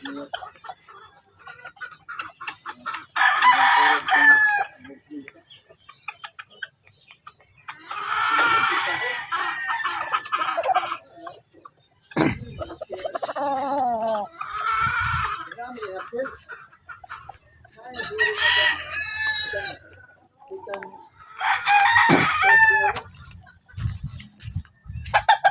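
Chickens and roosters at a game farm cluck and crow repeatedly in loud bursts, with people talking between and over the calls.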